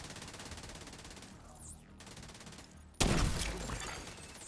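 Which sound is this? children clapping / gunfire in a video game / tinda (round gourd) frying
gunfire in a video game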